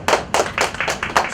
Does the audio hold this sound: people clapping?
yes